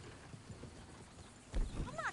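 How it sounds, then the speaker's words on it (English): Horses in Red Dead Redemption II: hooves clip-clop steadily under a low rumble, then a close horse whinnies loudly near the end while a voice speaks briefly. "Oh, shit, the horses! Damn horses!"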